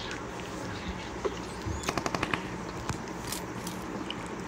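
Gunfire in the battle royale game BGMI, with a quick burst of rapid automatic shots in the middle and a few scattered single shots, moderately loud over steady game background.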